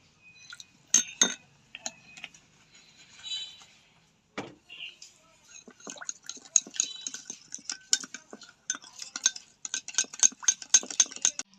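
Spoon stirring biscuit cake batter with water in a bowl, a run of quick scraping clinks and taps against the bowl's side, close and fairly soft, with a few louder knocks early and denser rhythmic stirring later.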